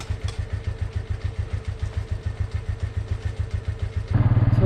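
Motorcycle parked on a market street in the Skardu area, its engine idling in a rapid, even putter before a sudden louder rev near the end, close and alone.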